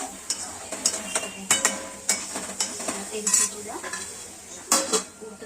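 A spoon scrapes and clatters against a pan while chicken masala with tomatoes is stirred and sautéed, sharp metallic strokes repeating over a soft continuous sizzle.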